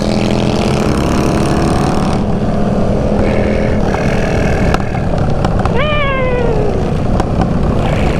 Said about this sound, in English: That backfire, baby.